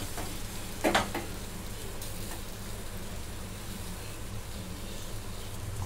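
A brief soft sizzle as tandoori roti dough lands water-side down on a hot tawa griddle, followed by a quiet steady hiss of cooking.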